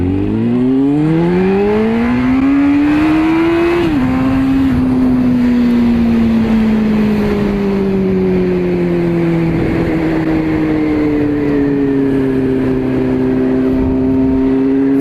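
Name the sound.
Honda FireBlade motorcycle accelerating hard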